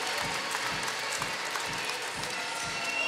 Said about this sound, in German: Gibt es Applaus